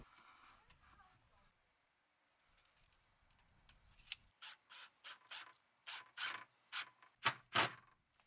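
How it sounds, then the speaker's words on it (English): A scrap of sandpaper is rubbed against a wooden gate to scrub off algae, giving a quiet, uneven start and then a run of rhythmic, close scratching strokes, roughly a dozen in quick succession. "I found a scrap of sandpaper on the van to clean it up a bit"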